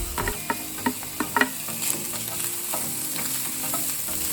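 Beef chao fan with kangkong is stir-fried in a pan, giving a steady sizzle under repeated scraping and clacking strokes of a spatula, busiest in the first second and a half.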